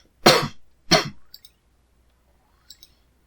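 Two sharp coughs about half a second apart, close and loud, followed by a couple of faint clicks.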